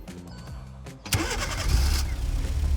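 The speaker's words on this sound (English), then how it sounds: "And here you go, the car is running." A Hyundai Venue engine cranks and catches at about one second after a remote-start signal from a MyKey remote starter kit, then settles into a steady, close idle.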